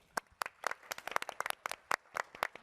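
Scattered clapping from a small audience at a NeoCon 2024 design presentation in Chicago, with separate sharp claps in an uneven rhythm, fairly near and moderate in level, and no one talking.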